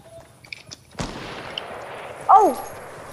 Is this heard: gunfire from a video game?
yes